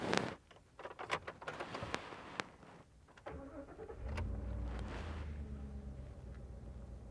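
A 2014 Ford F-150 Raptor SVT Special Edition pickup drives around a building. Faint clicks and taps come first, then a low, steady engine rumble builds and holds from the midpoint onward, with no talk.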